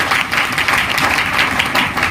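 Audience at a business plan seminar breaking into loud, continuous applause for an honoured guest, a close, even roar of clapping with little talk.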